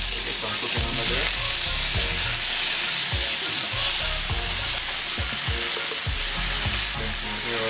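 Honey garlic pork chops fry in a pot with a steady, loud sizzle that runs throughout, broken by stirring clatter and low bumps.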